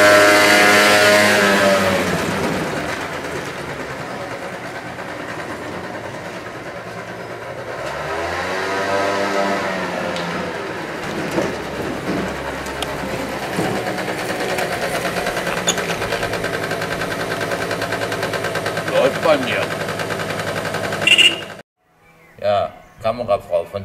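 Small two-stroke MBK, Vespa or Piaggio scooter engine buzzing steadily on a test ride, rising and falling with throttle for about twenty seconds before cutting out, with voices talking over it.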